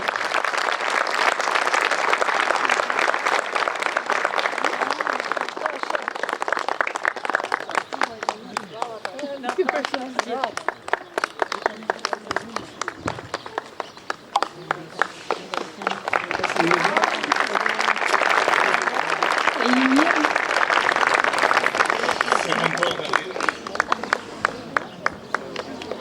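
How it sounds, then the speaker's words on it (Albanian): Sustained audience applause at a school's 80th anniversary celebration in Trush, dense rhythmic clapping swelling and easing over long stretches, with voices and crowd noise beneath. "Një duartrokitje"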